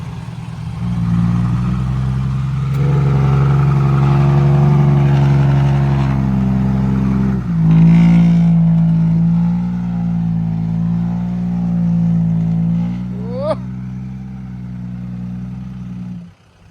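A heavy tractor engine drones loudly at a steady pitch, then shifts gear and keeps revving, with a brief mechanical squeal near the end.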